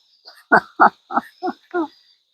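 A frog croaks close by at night beside a fire, five low, grunting pulses in a steady rhythm over a faint high cricket-like whine.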